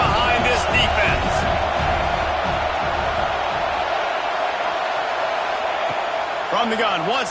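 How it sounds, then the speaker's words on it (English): A college football stadium crowd (SNL vs Bama) roars behind the defense on a big third down, a loud, sustained wall of cheering and noise that holds steady throughout, with faint voices and sharp thuds poking through near the start and end. "the crowd gets behind this defense"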